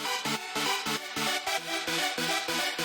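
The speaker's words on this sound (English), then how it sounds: "I decided to add this heavy detuned and obnoxiously white preset" A bright, gritty, heavily detuned white-noise synth chord with a hissy, noisy top pulses in a steady rhythmic pattern, loud and dense with no voices.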